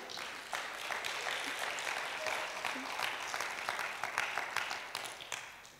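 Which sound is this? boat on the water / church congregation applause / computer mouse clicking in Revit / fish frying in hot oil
church congregation applause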